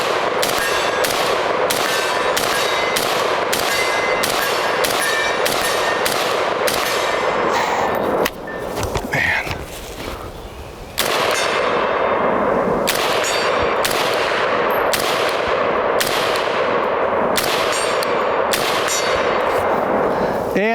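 Sig MCX Spear LT rifle chambered in .308 firing a long string of loud, sharp shots with ringing metallic clangs, evenly paced, with a brief lull partway through before shooting resumes.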